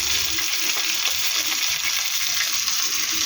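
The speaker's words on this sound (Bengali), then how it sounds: "মাছটা আমার মাথাটা ভাজা হয়ে গেছে" Steady, dense sizzling of a katla fish head frying in hot oil in a pan, close and continuous with a bright crackling hiss throughout.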